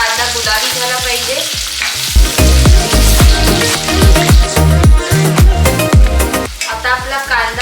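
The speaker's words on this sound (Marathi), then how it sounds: "बारीक कट केलेला कांदा, कांद्याला चांगलं फ्राय करून घ्यायचं आहे।" Finely chopped onion frying in a pan for a spicy egg masala: a loud, steady sizzle with rhythmic scraping stirs of a spatula, close and continuous throughout.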